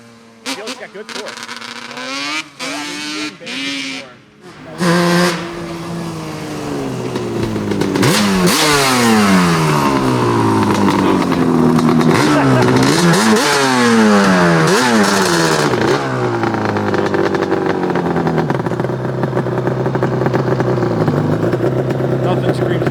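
A resto-modded Yamaha Banshee ATV engine, freshly built and being re-jetted, revs hard and close, its pitch sweeping up and down in repeated bursts after a few seconds of voices and clatter at the start.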